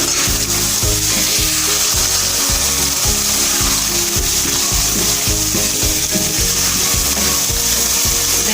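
Homemade yogurt being stirred into mattar keema frying in a pan, a loud steady sizzle under rhythmic low thuds and scrapes of the spoon against the pan.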